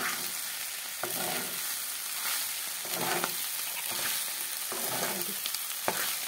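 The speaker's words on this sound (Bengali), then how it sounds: "পাস্তা মশলাটা দিয়েছি, একটু নাড়াচাড়া করলেই পাস্তা আমাদের রেডি হয়ে যাবে" Pasta with pasta masala stirred in a frying pan, a continuous close sizzle broken by regular scraping strokes about once a second, with no voices.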